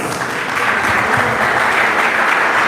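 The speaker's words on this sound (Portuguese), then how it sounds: "O seu Senhor merece uma salva de palmas." A church congregation applauds during a worship service, a dense, steady wash of clapping that holds loud and even throughout.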